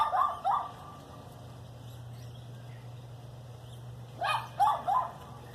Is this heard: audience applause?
no